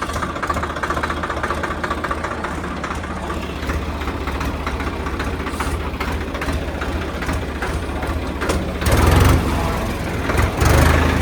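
A Swaraj 744 4WD tractor's diesel engine runs steadily and loudly up close while the tractor reverses, a continuous rumbling drone that swells briefly near the end.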